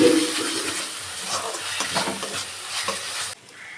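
Chili frying in one pan while spices sauté in another, a steady close hiss and crackle of sizzling oil with scraping stirs, ending abruptly as the sound cuts off near the end.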